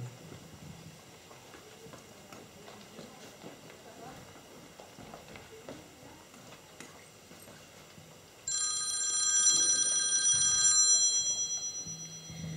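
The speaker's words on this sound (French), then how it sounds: "Un jour, le téléphone a sonné." A telephone rings in a school theatre show performed by sixth-graders at a care home, a loud steady electronic ring starting partway through and running to the end after a stretch of quiet room noise.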